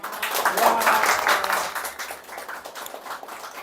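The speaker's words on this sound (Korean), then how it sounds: "박수 한번 칠까요?" A small audience at a philosophy lecture session claps together, a brief burst of applause that peaks early and then thins out, with faint voices mixed underneath.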